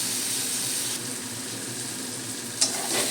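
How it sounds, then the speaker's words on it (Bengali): Masala spice paste with a little water frying in a pan for fish curry, a steady soft sizzle throughout with a brief sharp clink near the end. "মশলাটা আমি 2 মিনিটের মতো কষে নেব"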